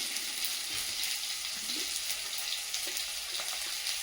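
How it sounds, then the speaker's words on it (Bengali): Spices fry in oil in a pan, producing a steady, close hiss and crackle with faint sputters, continuous throughout with no talking. "মশলাগুলো একটু ভেজে নিয়েছি।"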